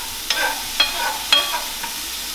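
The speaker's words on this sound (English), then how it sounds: "if you had any little brown crusty bits form on the bottom of your pan from when you were searing the steak, you want to try and scrape those up too" A utensil scrapes browned crusty bits from the bottom of a pan used to sear steak, three or four short scraping strokes over a faint sizzle.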